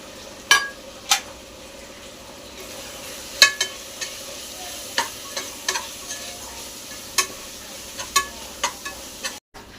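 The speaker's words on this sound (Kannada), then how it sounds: "ಎಲ್ಲ ಹಾಕ್ಕೊಂಡು ಫ್ರೈ ಮಾಡ್ಕೊಳ್ಳಿ." Masala of ginger-garlic paste, garam masala, chilli powder and coriander powder frying in a pan, a low steady sizzle broken by sharp clicks and scrapes of stirring at irregular intervals, close up with no voices.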